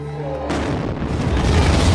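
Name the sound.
bomb explosions near the Boston Marathon finish line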